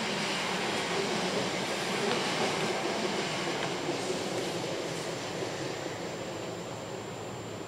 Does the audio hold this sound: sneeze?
no